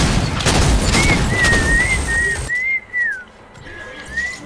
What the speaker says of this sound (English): Who is whistling? He's whistling very nice.